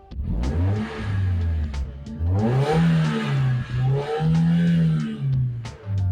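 A Mazda Miata engine is blipped up from idle in several rising and falling revs. Its steady, mid-pitched hum swells and eases back repeatedly and stays close and fairly loud throughout.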